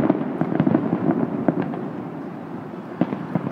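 Fireworks burst over Navy Pier in a steady barrage of crackling pops and thuds, heard from a distance, with sharper reports near the end.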